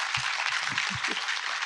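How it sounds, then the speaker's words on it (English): An audience claps for a group of women scientists at a Chandrayaan 3 event, a steady crackle of many hands from a seated crowd with a few low murmurs underneath. "Let's clap for them"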